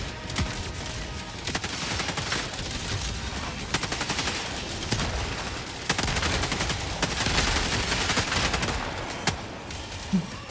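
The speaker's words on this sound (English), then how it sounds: "The autocannon's just smoking everything" Rapid bursts of heavy autocannon sentry fire in the sci-fi video game Helldivers 2, sharp repeated reports in quick volleys over dense battle noise, loud and sustained for the whole stretch.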